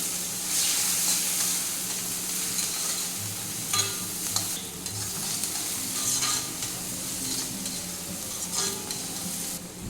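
Two small onions frying in hot oil with chillies for an egg curry, a steady bright sizzle with stirring scrapes and occasional spatters, close and continuous.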